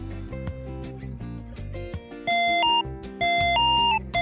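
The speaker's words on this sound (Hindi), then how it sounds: "तो ये हो गया कंप्लीट हमारा म्यूजिकल बेल" A homemade musical doorbell circuit built from two components plays an electronic melody through a replacement speaker, a steady sequence of bright, tonal beeping notes that continues without pause.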